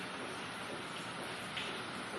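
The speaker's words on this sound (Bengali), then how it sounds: "প্রচণ্ড বৃষ্টি শুরু হয়েছে, সারা রাত হয়েছে, এখনও সকালে হচ্ছে মর্নিংয়ে।" Heavy morning rain falls steadily, a dense, even hiss of downpour that stays constant and fairly soft throughout, with no voices.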